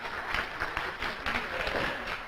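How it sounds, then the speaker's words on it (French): A short burst of applause from a crowd, steady clapping filling the room for a couple of seconds. "On peut l'applaudir quand même."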